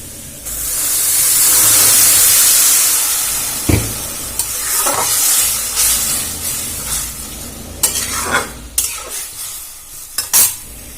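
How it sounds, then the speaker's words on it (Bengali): Water poured into a hot pan of frying green papaya for chutney sets off a loud burst of sizzling and hissing steam, then fades into scattered sizzles with several sharp clatters of a spoon stirring. "আমার এটা ভাজা হয়ে গেছে, আমি দিয়ে দেবো জল।"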